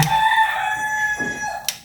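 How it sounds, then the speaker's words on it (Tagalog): A rooster crows loudly and clearly in one long drawn-out call, with no other sounds around it. "Nilalamig din ata ang mga manok kaya panay tilao."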